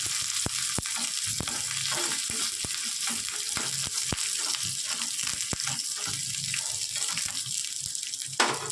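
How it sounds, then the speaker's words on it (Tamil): Onions sautéing in a pan for a Tamil mutton curry (kuzhambu), after mustard seeds and fennel are tempered: a dense, continuous sizzle studded with sharp, scattered crackles and pops throughout. "வெங்காயம் போட்டு நல்லா வதங்கட்டும்"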